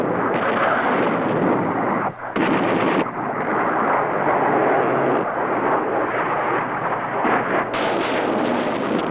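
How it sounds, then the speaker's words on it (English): A dense, continuous roar of rockets, bombs and cannon fire from air strikes rumbles without letup, loud and booming, with a brief dip before resuming. "the concentrated firepower of rockets, missiles, bombs, and cannon"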